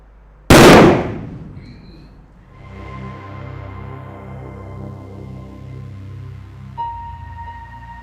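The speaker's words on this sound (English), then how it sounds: "If you look carefully, you can see that as the flame touches the balloon, the reaction goes really fast." A balloon filled with a hydrogen-oxygen gas mixture explodes in a single loud, sharp bang when touched by a flame. A decaying rumble follows, then a steady hum with no talk.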